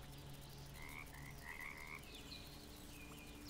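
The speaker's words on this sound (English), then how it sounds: "Oh, look at the frog." Frog croaking in the video game Bramble: The Mountain King, a few short rasping calls repeated over a steady ambient bed of pond and nature sounds, fairly close and clear with no talking.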